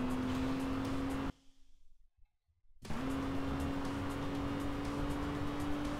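Car driving in the video game Alarm für Cobra 11 – Das Syndikat: a steady, loud engine drone that cuts out briefly mid-clip, then returns at the same pitch, with no talk.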